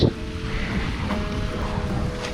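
Sea along the Ilhabela coast in Brazil, waves washing in under steady wind rumble, a broad continuous wash heard fairly close without talk.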